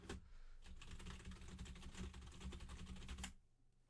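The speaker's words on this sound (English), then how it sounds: "you can hear that the keyboard as well" Computer keyboard keys clatter in a fast, steady stream of close typing, with many dense clicks running for a few seconds before stopping, heard alone in a quiet room.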